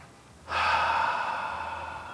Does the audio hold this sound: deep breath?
yes